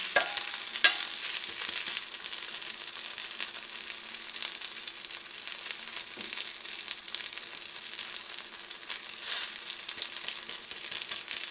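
Ragi roti frying in sesame oil on a hot pan, a steady close sizzle and crackle running evenly throughout with no voices.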